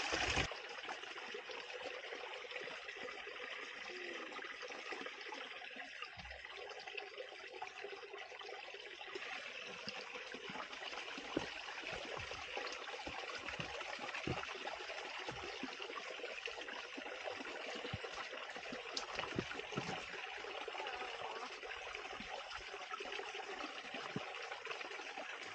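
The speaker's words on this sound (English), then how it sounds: "then you can hear the water flowing" Water from a mountain stream source on Cucamonga Peak trickles and flows steadily, a continuous close hiss of running water with no voices.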